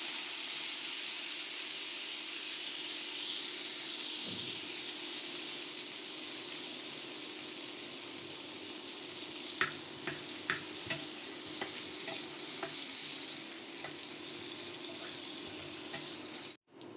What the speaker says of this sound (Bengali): শুটকি পরিষ্কার করে ধুয়ে তেলের মধ্যে দিয়ে দিলাম